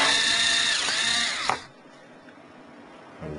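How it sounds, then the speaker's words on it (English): A power screwdriver driving screws while a custom PC is assembled, a steady whirring buzz close up that winds down and cuts off, followed by faint handling noise. "Now just screw them in."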